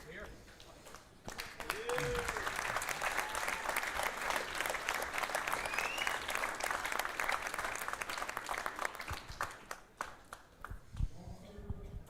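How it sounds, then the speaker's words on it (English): Crowd at a live boxing event at the Mill breaks into long, dense applause for a boxing champion, clapping steady and loud with a voice heard over it at the start and end. "A big round of applause again"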